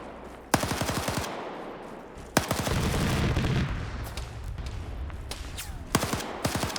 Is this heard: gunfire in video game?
yes